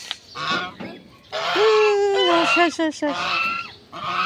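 Geese honking loudly nearby, a series of nasal calls with a long drawn honk in the middle, amid brief voices.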